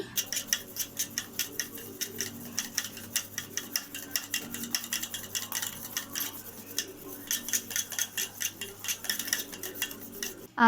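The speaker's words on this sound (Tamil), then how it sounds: "டால்டா வந்து இந்த மாதிரி ஸ்டிஃப் ஆகிற வரைக்கும் நல்லா பீட் பண்ணிக்கணும்" A spoon beats Dalda in a bowl to make cake cream, a fast steady run of close metallic clicks and scrapes that keeps going for several seconds with no talking.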